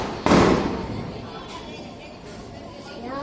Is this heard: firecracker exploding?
yes